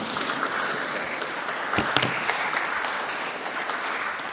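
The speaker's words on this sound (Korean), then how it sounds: "영광 박수 올리겠습니다." A church congregation at a Korean mission church Sunday service in Berlin applauds together, a steady dense wash of clapping that holds evenly for several seconds with a brief louder swell midway.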